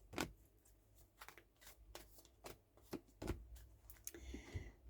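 A deck of goddess oracle cards is shuffled by hand in a quiet room, making a run of crisp, quick riffling flicks and soft slaps, close and fairly faint.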